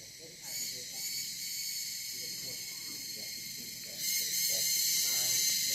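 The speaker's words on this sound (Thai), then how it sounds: "เสียงจิ้งหรีดเลยๆร้องดังสนั่นเลยนะครับ" A loud, steady high-pitched chorus of crickets at a camping ground in a national park in Kanchanaburi, Thailand, swelling louder toward the end, with faint low sounds underneath.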